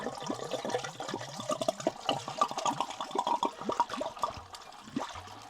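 Eagle Rare bourbon glugs through a funnel into bottles, a steady run of bubbling gurgles with small splashes, close and fairly quiet, with no talking.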